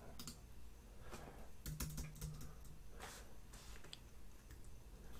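Username and password being typed on a computer keyboard: a run of quick, close key clicks with short bursts and pauses, fairly quiet against a soft room background.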